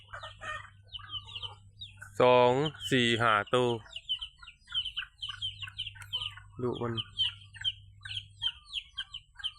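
Farmyard chickens cluck and chatter in the background while a rooster crows in two loud bursts, the first longer and the second brief. Someone speaks quietly at intervals over a steady low hum.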